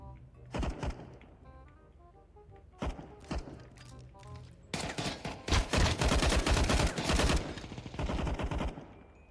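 Counter-Strike 2 gunfire erupts in a few single shots, then a long sustained burst of rapid automatic fire and a final volley, loud and close within game audio.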